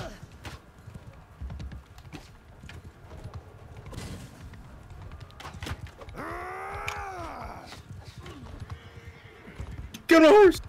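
In the Mount and Blade 2 Bannerlord battle game, a horse gives a loud, wavering neigh amid clip-clopping hooves and clashing combat noise, with a player shouting over the action.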